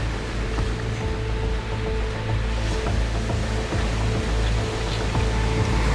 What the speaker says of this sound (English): there's a lot of waves there. And big waves